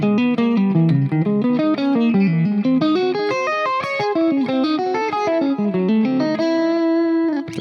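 An electric guitar with a distorted, effected tone plays rapid minor and diminished arpeggios over a practice track, the notes climbing and falling in quick succession before settling on a final sustained chord, close and loud with no voices.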